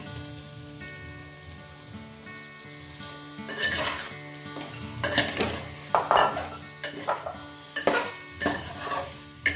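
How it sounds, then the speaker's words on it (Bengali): Marinated prawns dropped into a pan of spices, a quiet background sizzle giving way to loud bursts of frying and repeated stirring scrapes. "এবার ম্যারিনেট করে রাখা চিংড়ি মাছটা দিয়ে দেব।"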